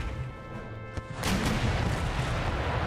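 Artillery cannon fire in the Empire Total War video game, a battlefield exchange with a sharp boom about a second in followed by sustained loud rumbling crash and debris noise.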